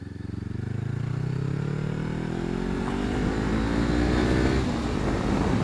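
Honda CBR500R motorcycle fitted with a Yoshimura exhaust, its engine loud and close as the throttle is wound out, rising steadily in pitch through the revs before holding a strong, rough drone.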